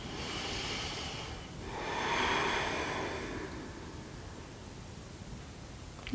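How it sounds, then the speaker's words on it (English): A slow exhale during a Feldenkrais spinal movement: a soft, airy breath close to the mic, swelling and fading over a couple of seconds against a quiet room hiss, with no talking. "next time you exhale"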